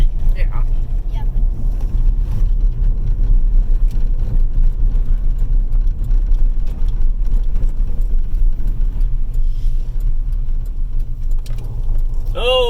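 A car driving on an icy, snowy road makes a continuous low rumble of engine and tires throughout, with a brief rattle near the end.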